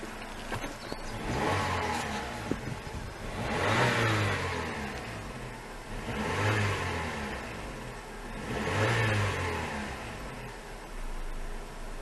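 A 2005 Suzuki Reno (Lacetti) revs three times in slow, even swells, each rising and falling with a mellow exhaust note, the engine idling quietly between pulls with no talking.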